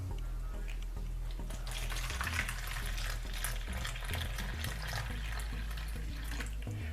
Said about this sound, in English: I put some water in it